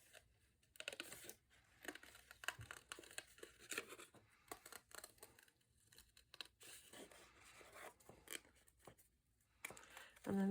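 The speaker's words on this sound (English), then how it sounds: "I'm going to cut around the inside line" Scissors snip around a traced paper tag for a handmade card, a faint, close series of irregular crisp cuts and paper rustles with a few louder snips, heard alone.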